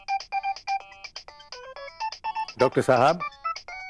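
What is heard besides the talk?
telephone ringing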